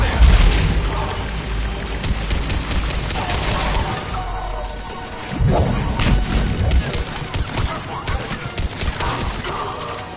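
Heavy gunfire and booming impacts around a pod on Sur'kesh in Mass Effect Legendary Edition, dense bursts and crashes at the start, a lull, then another loud flurry of shots.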